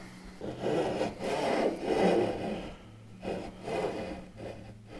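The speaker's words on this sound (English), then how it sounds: "So you can see I'm using my saw blade there just to follow that line up and through into the keel section." A hand saw cuts through a wooden frame for a quarter-scale boat build, following a line into the keel section, giving close rhythmic rasping strokes in bursts with short pauses between them.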